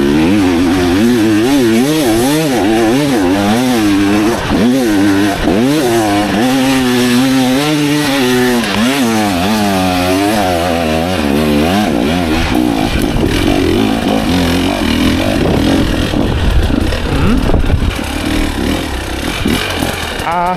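A 2024 KTM EXC 300 TBI dirt bike engine revs loud and close, its pitch rising and falling in repeated throttle blips before settling into a rougher, steadier roar.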